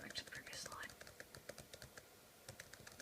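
Computer keyboard typing with quick, irregular keystrokes, close and moderately quiet, while a blind user writes words and presses the space bar for spoken echo; faint synthetic speech chirps sit over the clicks.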